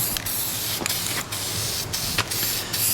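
Spray paint hisses onto a John Deere 62D mower deck in short repeated bursts, each blast lasting under a second with brief gaps between, close and moderately loud.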